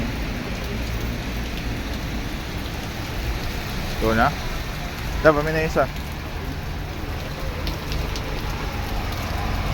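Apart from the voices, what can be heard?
rain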